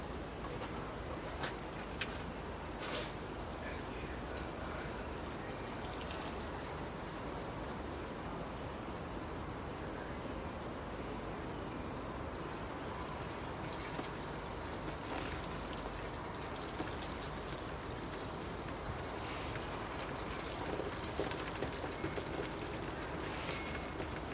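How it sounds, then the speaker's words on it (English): A freshly repotted Schefflera bonsai being watered, a soft continuous patter and trickle of water onto soil that runs steadily throughout, close but quiet, with no talking. "so the last thing to do is give it a water."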